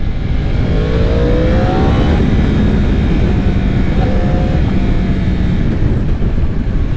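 Yamaha R1 sport motorcycle engine heard from the rider's position, a loud continuous roar with rising rev sweeps and abrupt quick-shifter upshifts, heavy wind rush throughout.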